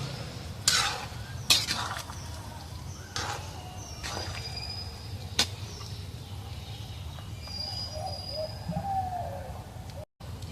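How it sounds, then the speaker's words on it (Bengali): Mustard paste being stirred into a vegetarian drumstick posto in a pan, with soft scraping strokes and a low simmering sizzle close by, plus faint birdsong in the background. "এই সরিষা বাটাটা দিয়ে দেই, একটু নাড়াচাড়া করে নামাই দেব।"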